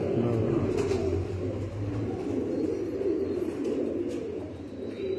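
A Kasuri pigeon with pink eyes coos in a loft, low repeated cooing notes close by against a steady background murmur, with faint chirps from other birds.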